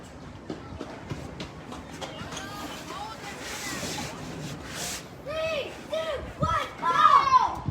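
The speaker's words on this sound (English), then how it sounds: "Very windy too." Wind gusting at an outdoor youth baseball game, a steady broadband rush with buffeting against the microphone that swells louder toward the end, while people talk nearby and a voice comments.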